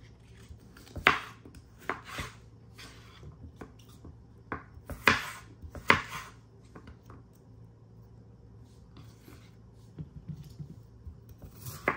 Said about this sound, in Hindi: सबसे पहले मैंने खीरा लिया है और उसको मैं अच्छे तरीके से स्लाइस कर लूँगी